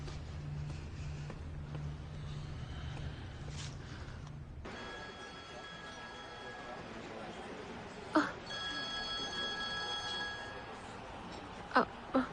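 A phone rings in a domestic drama scene, its electronic ringtone tones sounding repeatedly over low background hum and a few short knocks.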